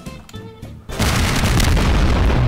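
A loud, sustained Garry's Mod explosion booms and roars with a long rumbling tail after a quieter stretch of scattered sounds.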